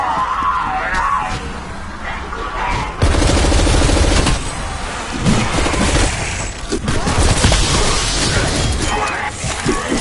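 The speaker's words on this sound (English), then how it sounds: "Throwing grenade." Rapid bursts of gunfire and a grenade blast in Call of Duty Cold War Zombies, with dense, loud, continuous combat noise, booms and shattering, plus a voice speaking over the action.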